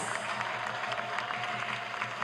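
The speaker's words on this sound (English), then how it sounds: "Can we give him another round of applause, please?" Moderate applause from the audience at a plenary session, a steady patter of many hands clapping at middling distance without a clear peak.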